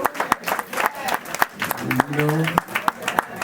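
Audience applause at a stand-up comedy show, a burst of scattered hand claps from the crowd spread across the moment, mixed with a performer speaking and some crowd murmur.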